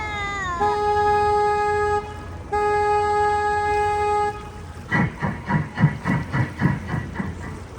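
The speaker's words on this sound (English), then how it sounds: "please excuse me while I honk my horn" Two long, loud blasts of a deep tour boat horn on a San Antonio, Texas river boat ride sound one after the other, followed by a series of rhythmic pulsing tones.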